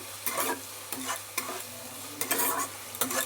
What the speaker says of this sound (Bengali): আদাটাকে দিয়ে দিচ্ছি সেটাকেও রসুন পেঁয়াজের সাথে ভালো করে নেড়ে নিচ্ছি